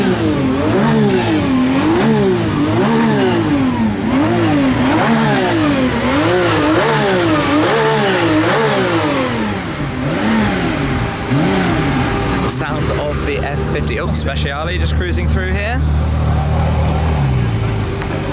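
Sports cars rev hard as they pull out onto the Monza circuit during a track day, rising and falling engine notes overlapping one after another, loud and close, with a steadier idling drone near the end.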